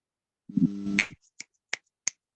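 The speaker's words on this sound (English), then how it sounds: "Snap your fingers" Several online meeting participants snap their fingers after a talk, giving four sharp, separate snaps about a third of a second apart. Before them comes a short burst of low, humming voice-like noise.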